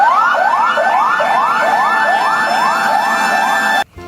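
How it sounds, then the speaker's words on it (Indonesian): A toy fire truck's electronic siren wails in a steady rising sweep, repeating about twice per second, loud and close with no talk, then cutting off abruptly near the end. "ada pemadam kebakaran"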